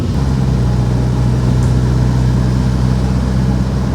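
Isuzu Panther turbo diesel engine, fitted with a racing-spec turbo, idling in neutral with a steady, even low rumble throughout, close and unchanging, no talking.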